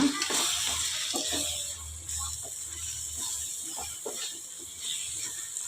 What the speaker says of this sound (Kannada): ಸ್ವಲ್ಪ ಫ್ರೆಶ್ ಕ್ರೀಮ್ ಹಾಕ್ಕೊಳ್ಳೋಣ ಚೆನ್ನಾಗೆ ತಿರುಗಿಸ್ಕೊಳ್ಳೋಣ